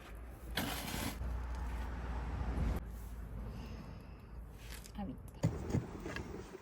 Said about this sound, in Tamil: இப்போ வேறுங்கோ எங்களுடைய அடுப்பு எரிய ஸ்டார்ட் ஆகுது